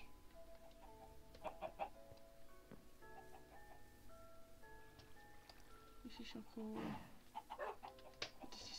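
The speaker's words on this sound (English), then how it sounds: "Oh there's a chicken looking at me." A Minecraft chicken in a skyblock world gives several short clucks scattered through the clip, with rain and game ambience behind and a person talking over it.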